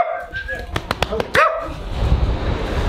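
A dog barks in a quick series of five or six sharp barks near a seaside spot, then a short yelp, with people chatting around it and background noise continuing.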